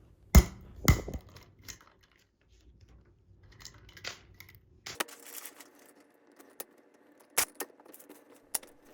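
A hollow ground D2 steel knife blade slicing through outdoor zip ties, with a few sharp snaps and clicks spread irregularly among faint handling noises, close and fairly quiet.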